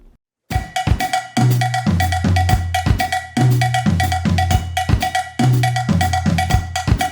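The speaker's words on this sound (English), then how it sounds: "Here's an adaptation of what a Mozambique groove might sound like on a drum kit or in a drum" A Mozambique groove played on a drum kit, with a steady bright cowbell pattern over syncopated bass drum and tom hits, looping in a tight repeating rhythm after a short silent start.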